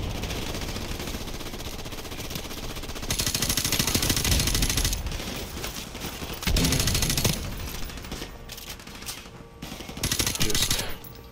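Automatic and rapid gunfire in Call of Duty 4: Modern Warfare, loud and dense throughout, with bursts building up at several points and shifting in intensity.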